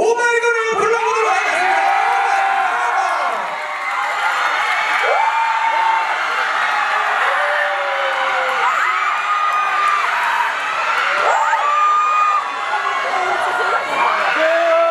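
A large festival crowd cheers, whoops and applauds ahead of a performance, a loud continuous roar with high-pitched shouts rising above it throughout.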